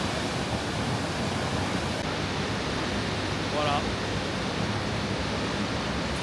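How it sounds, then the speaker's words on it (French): The Montmorency waterfall roars in a powerful, broadband wash of falling water that fills the scene from nearby. It stays loud and steady throughout, and a brief voice speaks over it. "j'adore les cascades, les chutes d'eau comme ça"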